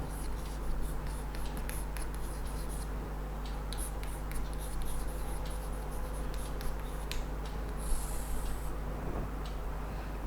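Pen scratching on paper while writing out an accountancy sum, a continuous run of small close strokes and ticks over a steady background hum, with no speech.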